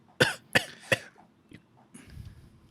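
Three sharp coughs in quick succession, fairly close, followed by a softer throat-clearing rasp and faint breathy noises.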